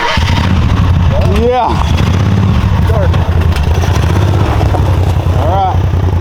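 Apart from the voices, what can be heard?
999cc V-twin motorcycle engine starting and idling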